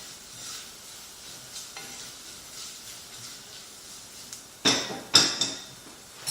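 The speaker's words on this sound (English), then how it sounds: "we're going to fry that for a bit before we add the rest of the ingredients" Soft, steady sizzling of curry powder frying in a pan, with a couple of sharp metallic clinks of a utensil against the pan.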